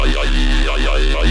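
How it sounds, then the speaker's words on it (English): A drum-and-bass vowel bass synth patch built in Serum 2 with a formant filter plays a short, buzzy sustained tone whose talking, vowel-like sweeps rise and fall in a repeating rhythm. "A vocal bass line that sounds like this."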